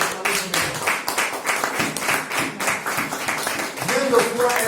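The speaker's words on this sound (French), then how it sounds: "Acclamons pour les mamans." A church congregation applauding for the mothers during a sermon, with loud, rhythmic, crowded clapping running the whole way through and voices calling out over it.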